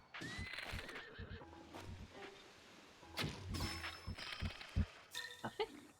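A horse whinnies in the Zelda: Breath of the Wild video game, with repeated neighs and snorts scattered through the clip amid soft game sounds and a few clanks, moderately quiet overall.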